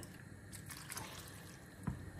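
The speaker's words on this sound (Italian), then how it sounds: "aggiungiamo 2 mestoli d'acqua" Two ladles of water poured into a pan of frying zucchini and onion: faint splashing and dripping liquid with a soft gurgle, ending in one brief low thump, no talking.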